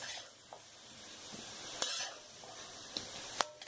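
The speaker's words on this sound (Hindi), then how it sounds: "मीडियम फ्लेम पर आलू पकने तक और ब्राउन होने तक फ्राई करेंगे।" Potatoes fry in oil over a medium flame, giving a soft, steady sizzle while a utensil stirs them, with a few faint scrapes and clinks against the pan.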